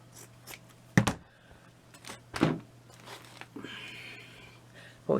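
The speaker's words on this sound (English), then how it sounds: "take this felt, and I'm just going to cut a strip" Scissors cutting a strip of felt, several distinct snips spaced a second or so apart, close and fairly crisp, in a quiet room.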